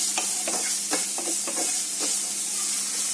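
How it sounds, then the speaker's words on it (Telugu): Chicken fried rice ingredients sauté in a hot pan, a constant sizzling hiss broken by repeated scraping and stirring strokes of a spatula at an irregular rhythm. "లైట్గా 2 minutes సాట్ చేసుకుందాం దీన్ని."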